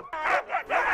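Siberian huskies from a sled dog team, rescue dogs, giving high yipping barks and whines in quick repeated bursts, close and loud, with no talk over them.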